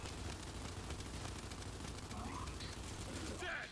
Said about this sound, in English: The fuck is he shooting at us?